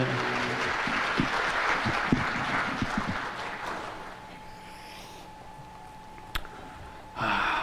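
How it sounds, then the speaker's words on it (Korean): Congregation applause during a church service, a full wash of clapping with a few louder claps that fades after a few seconds, leaving a quiet room with a faint hum and an isolated knock. "우리 하나님께 다시 한번 최고의 박수로 하나님께 영광 올려드리겠습니다"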